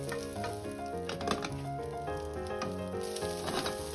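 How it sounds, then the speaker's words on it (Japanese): Paprika and onion stir-fry in oil in a frying pan, a soft continuous sizzle sitting under louder background music with tuned notes, no talking. "フライパンに油を敷いて温めていきましょう。 パプリカと玉ねぎから炒めていきます。"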